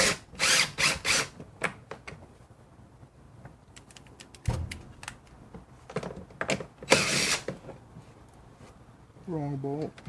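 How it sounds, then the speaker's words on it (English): A cordless power drill runs down bolts on a BMW E90/E92/E60 oil filter housing in several short whirring bursts with ratcheting clicks and metallic clinks between them, close by, with a voice talking briefly. "especially if you're using one of these drills."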